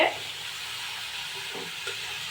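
Finely chopped khesari greens are stirred slowly in an uncovered pan, a soft continuous sizzle with faint scraping touches, moderately close and without talk.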